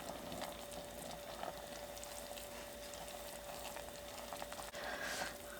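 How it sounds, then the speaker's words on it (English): A pot of wild violet liquid boils on the stove with a faint, steady bubbling and hiss, under a constant thin tone and a soft clink near the end. "Now I'm going to boil it and stir it for 1 to 2 minutes."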